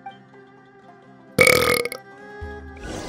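A single loud, rough burp bursts out midway through a quiet stretch of steady tonal background music, then fades into soft noise.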